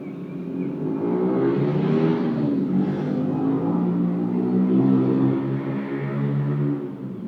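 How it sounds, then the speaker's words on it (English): Loud motorbikes passing outside, a steady engine drone with rising and falling pitch that holds for most of the stretch, with no talk over it. "But sometimes the motorbikes are just too loud"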